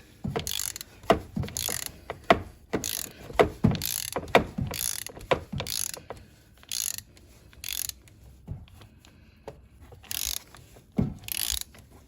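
A ratchet socket wrench loosens the oil filter on a Citroen C3 Picasso during an oil change, giving bursts of rapid, close metallic clicking that start and stop repeatedly, with no talking.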